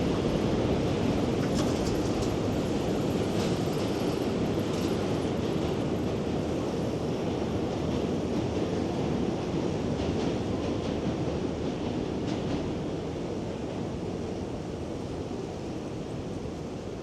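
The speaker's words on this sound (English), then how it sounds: "You can really hear the roar of the subway going over." A subway train crossing the Manhattan Bridge above DUMBO in Brooklyn produces a heavy, continuous rumbling roar with faint rhythmic clatter, loud and steady throughout before easing slightly at the end.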